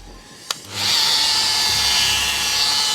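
A compact mini polisher with a 77mm head whirs steadily against an alloy wheel outdoors, starting after a sharp click and then running loud and continuous to the end.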